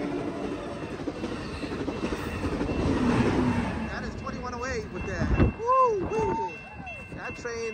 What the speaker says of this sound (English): that train is flying to Sacramento